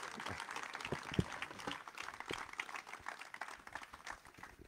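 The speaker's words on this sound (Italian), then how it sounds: "facciamo un applauso più convinto a Massimo Cutò" An audience applauds Massimo Cutò at the opening of the 45th La Versiliana Festival, a moderate, steady patter of clapping with a few sharper claps standing out, heard from within the crowd.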